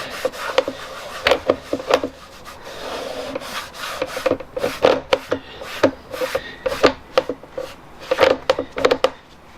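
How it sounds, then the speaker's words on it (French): Rubbing strokes of a cloth wiping ceramic coating off a surface, a quick series of short, close scrubbing sounds in irregular bursts, moderately loud with no talk. "J'essuie."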